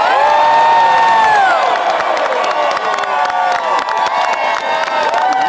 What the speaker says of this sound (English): Let's all hear a huge round of applause for Charles Lollar.